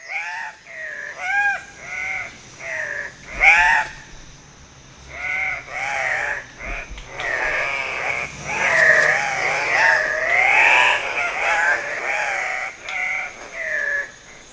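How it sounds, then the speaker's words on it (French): Andean cocks-of-the-rock at a courtship display in the Peruvian Amazon give loud, repeated squawking calls, several birds overlapping in bursts of harsh, rising and falling cries that grow into a continuous chorus. "la parade amoureuse des coqs de roche."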